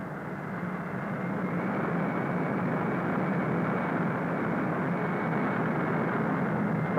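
A Convair B-58 Hustler jet bomber taxiing toward the runway, a steady loud broadband engine roar that holds evenly throughout with no pauses.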